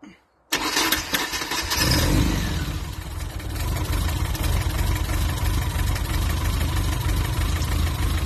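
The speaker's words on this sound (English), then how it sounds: "Now we'll go for a start again." A tuned multipoint-injection car engine cranks and catches after a brief silence, revs up, then settles into a steady, loud idle that runs on alone.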